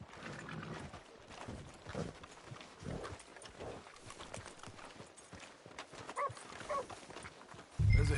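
Horse hooves clip-clop on a street, a steady faint walking rhythm with background murmur and scattered small noises, ending in a louder rumble.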